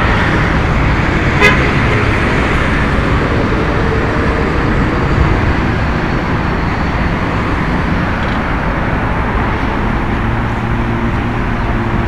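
Heavy traffic noise with big trucks rolling past, a steady loud roadway roar with a brief sharp hiss of air brakes being released near the start.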